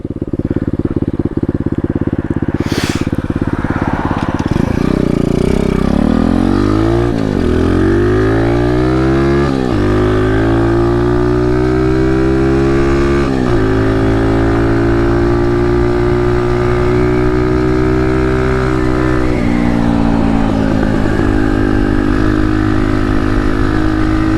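A cheap 125cc pit bike from Amazon being ridden, the engine loud and close as it revs up through repeated rising runs with shifts in between, droning continuously under wind noise.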